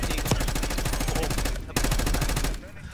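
Rapid automatic gunfire in the video game Black Ops 2 plays as a dense stream of shots with a brief break partway through. Faint voices can be heard beneath it.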